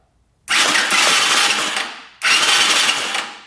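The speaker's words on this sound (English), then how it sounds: "Turn over the engine." A brand-new budget quad ATV's engine cranks over in two long bursts of rapid, loud mechanical whirring, separated by a brief pause, with no talking.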